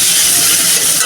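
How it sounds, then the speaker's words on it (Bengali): Sliced onions dropped into hot oil for a meat curry give a loud, steady hiss of sizzling that fills the whole moment without a break. "এখন মাংসের জন্য দিয়ে দিলাম পেঁয়াজ"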